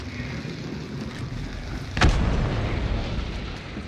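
A hive bomb goes off close by in Hunt: Showdown, a single sharp boom over a low, rumbling ambient background, its tail fading slowly.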